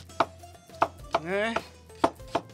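Knife chopping an onion on a board for Greek kontosouvli, a pork belly and neck skewer roast: six sharp, close, evenly spaced chops, with a short rising tonal squeak midway.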